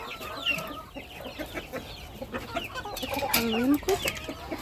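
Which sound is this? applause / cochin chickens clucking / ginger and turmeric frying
cochin chickens clucking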